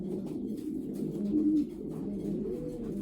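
Racing pigeons coo softly and continuously in a loft while birds are basketed for races, low murmuring calls overlapping at close range with no talking.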